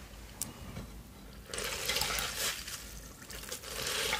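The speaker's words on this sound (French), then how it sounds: "Donc je vais rincer mon visage à l'eau claire." Water splashing and trickling as a face is rinsed with clear water, a soft broadband wash that swells after a quiet start and continues in close, gentle bursts with no talking.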